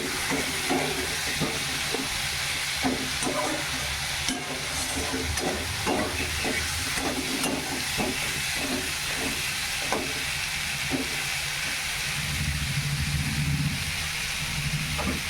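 Spices and salt sauté together in oil in a pan for a Bengali fish curry, giving a steady close sizzle broken by repeated scraping and stirring strokes from a spatula.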